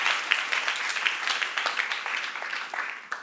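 An audience at a church youth group Q&A session applauds, with a short burst of dense, fairly close clapping that stays loud for the whole moment with no voices over it.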